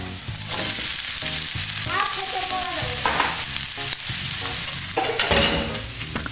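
Potato fries in a pan with a sizzling crackle while a utensil stirs and scrapes, scattered clinks and scrapes breaking over the steady frying hiss.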